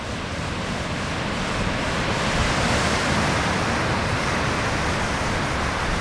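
Ocean surf on an Outer Banks beach, with waist- to chest-high waves breaking in a light wind, forms a dense, steady roar of wash and spray that swells slightly in the middle, loud and close, with no voices.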